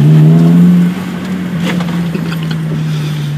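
Small car driving a lap, a loud steady engine drone that eases off after a moment and settles into a lower, rumbling cruise with faint road noise.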